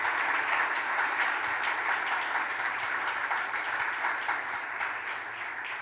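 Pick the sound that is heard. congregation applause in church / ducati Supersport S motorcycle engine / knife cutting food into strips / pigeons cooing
congregation applause in church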